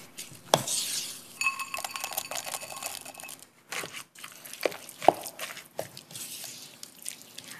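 A spoon stirs a thick poppy seed mixture in a pot for a poppy seed and apple cake, with irregular scrapes, clinks of metal against the pot and short pauses between strokes, near and moderately loud.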